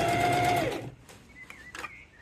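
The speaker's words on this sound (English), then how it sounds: "I'm going to reverse stitch and then edge stitch all the way around until I meet myself back where I've started" A sewing machine edge stitches a market tote bag, a steady, close mechanical whir for under a second before stopping, followed by a few faint clicks and handling sounds.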